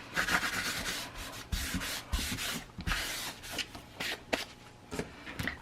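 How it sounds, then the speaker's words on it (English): Paper book cover being burnished by hand, repeated close rubbing and scraping strokes in irregular bursts with short pauses between them. "Okay, so I'm going to burnish that real good."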